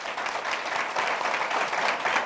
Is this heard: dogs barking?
no